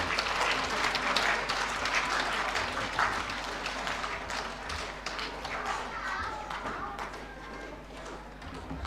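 Warm applause from an audience at a 2024 friendship evening gathering, a dense steady patter of clapping filling the room throughout, with children's voices and chatter mixed in.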